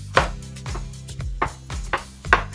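A knife chops hard food on a cutting board in a home kitchen: five firm, evenly spaced strikes, each a sharp crack with a low thump from the board, close and clear.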